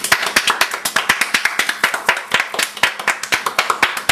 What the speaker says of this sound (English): Just give yourself a round of applause.